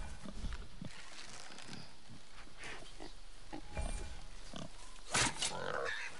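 Boar in the video game God of War lets out rough, low grunts in short bursts across the clip, with faint talk beneath.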